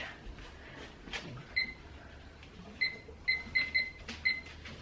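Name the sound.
kitchen timer being set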